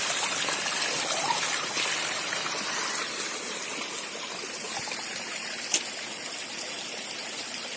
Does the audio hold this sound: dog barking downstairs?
no